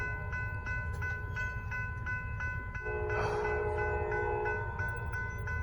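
A Norfolk Southern freight train rumbles past at night with a steady low roar, while a clear repeating bell or chime rings throughout and a brief horn-like blast sounds midway, all fairly close.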